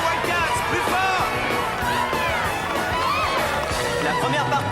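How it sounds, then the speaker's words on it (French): A sports crowd of supporters claps and cheers for the Wildcats team, with dense, steady applause and excited shouting that continue without a break. "Allez les supporters, applaudissez, c'est ça. Encouragez les Wildcats, plus fort."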